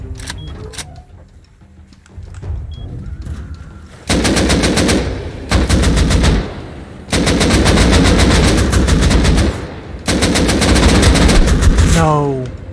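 Automated turrets in Rust rattle off long, loud bursts of rapid fire close by. The bursts come in several blocks separated by short gaps, after quieter ambient movement at the start.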